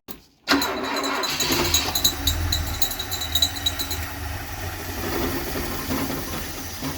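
A 1975 Ford Fairlane engine cranks and catches after a short silence, then revs unevenly with sputtering bursts before settling into a rough, loud idle.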